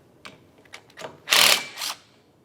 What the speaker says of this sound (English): Remove the nut.